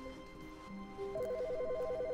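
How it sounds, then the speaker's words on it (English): A telephone rings in the video game The Stanley Parable, a faint electronic warbling tone alternating rapidly between two pitches in a steady trill after some quieter tones, no talking. "The phone ringing."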